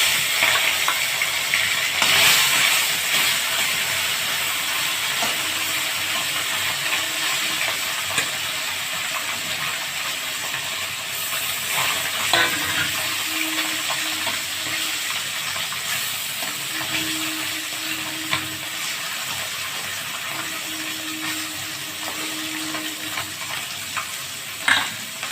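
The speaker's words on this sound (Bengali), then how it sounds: "কড়াই গরম হয়ে গেছে, এবার আমি কড়াইতে তেল দিয়ে দিচ্ছি। মাছগুলো একটু ভেজে নেব।" Small puti fish fry in hot oil in a kadai, a steady close sizzle running continuously with occasional spatula scrapes and stirs, no voices over it.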